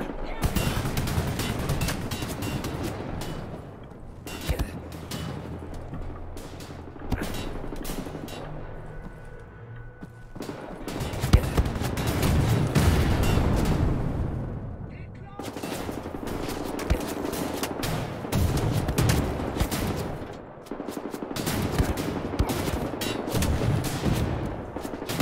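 Machine-gun and rifle fire in the Wolfenstein: The New Order video game, loud bursts in rapid sustained volleys broken by short pauses, with a voice talking between them.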